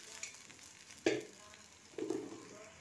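Rui fish curry gravy with radhuni spice boiling in a pan, two fish pieces added, giving two sharp sizzling bursts over a low steady simmering bubble, close and moderately quiet.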